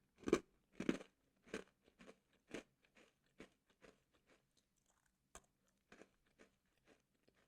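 Crisp mocha biscotti from a bakery is bitten and chewed up close, loud crunches at first, then a series of softer, spaced chewing crackles in an otherwise quiet setting.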